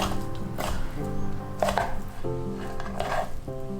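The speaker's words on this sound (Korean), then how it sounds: "소고기는 약간 길쭉하게 한 입에 먹을 수 있는 크기로 썰어주었습니다" A knife chops beef into bite-size pieces on a board, producing repeated close, dull knocks in an irregular rhythm, with faint clinks of kitchenware.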